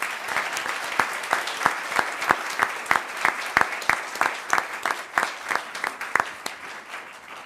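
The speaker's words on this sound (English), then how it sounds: "How about one more round of applause for all of our students and our staff?" Audience at a Board of Education meeting giving a round of applause, a moderate, steady patter of clapping from a modest room-sized crowd lasting several seconds.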